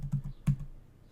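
Keys tapped on a computer keyboard while text is entered into a form, a few quick clicks followed by a single louder stroke, close and fairly quiet with no talking.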